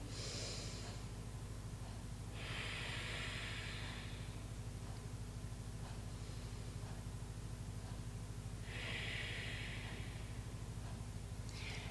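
Slow, deep breaths during a fascia exercise on the elbows, with three long hissing exhales spread across the stretch, close and soft over a steady low hum of the room.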